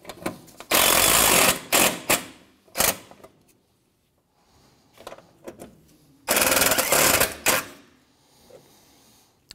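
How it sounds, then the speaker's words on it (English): Bursts from an impact or power tool tightening the front bumper bolts on a 2007-2013 Mitsubishi Outlander, with several loud rattling runs of varying length separated by brief pauses and quieter clicks. "go ahead and tighten these bolts down."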